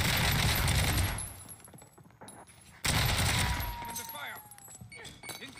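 Bursts of automatic gunfire in Call of Duty Warzone, two loud rattling volleys separated by a short lull, close and heavy, with faint game sounds and brief speech around them.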